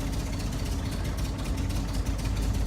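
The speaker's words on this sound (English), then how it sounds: "All right, so it's idling on its own right now." A 1961 Triumph TR3A engine idling steadily on its own, a low, even rumble with a faint mechanical chatter, heard close and fairly quiet.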